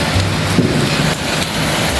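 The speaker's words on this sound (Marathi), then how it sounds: "पाऊस थोडा जास्त पडत आहे, थंडी लागत आहे थोडी." Heavy monsoon rain pours down in a village, a loud, dense, continuous hiss with no voices over it.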